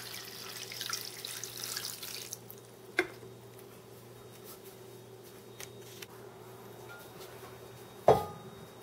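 Tap water runs steadily into a pan of cauliflower in a home kitchen, a soft continuous pour with a couple of sharp clinks, no talking.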